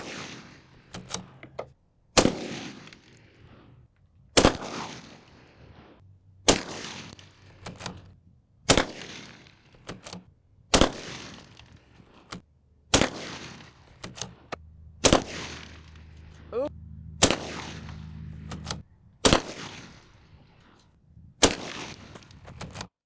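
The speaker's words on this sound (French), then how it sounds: "premier tir sur la Safe Life niveau 4 édition chinoise" Repeated gunshots fired at a Safe Life China level 4 body armor plate, about a dozen sharp loud cracks at irregular intervals of one to two seconds, each with a short echoing tail, outdoors.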